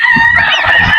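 Geese honk loudly and close by on a farm, with a brief burst of harsh, overlapping calls filling the moment.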